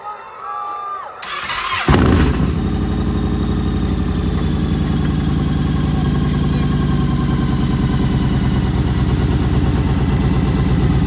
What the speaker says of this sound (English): I'm gonna go ahead and start the bike up,